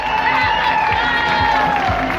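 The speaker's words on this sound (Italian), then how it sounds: "voglio sentire un grandissimo applauso da parte di tutta la piazza di Arconate ai volontari" A crowd filling the town square in Arconate claps and cheers at an evening event, a dense steady wash of applause mixed with a sustained tone and a low thumping beat underneath.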